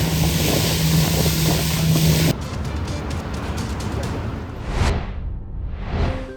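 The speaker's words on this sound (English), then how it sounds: "the winds are really picking up out here. We gotta rush to get back to the Zodiac." Strong wind batters the microphone at sea off Antarctica, with a Zodiac boat's motor and waves. The roaring gusts are loudest at first, then ease into a lower churning drone with occasional whooshing swells.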